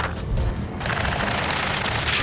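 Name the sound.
gunfire during a battle in the video game Ace Combat 7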